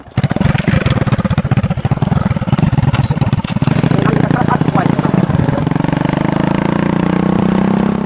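An old, worn-down motorcycle runs loud and close, its engine sputtering in rapid uneven pulses before settling into a steadier rev toward the end, with a voice speaking over it.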